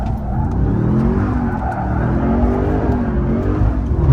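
A 700hp drift truck with a long wheelbase slides sideways along a European mountain road, its engine holding a loud, steady roar with wavering pitch throughout.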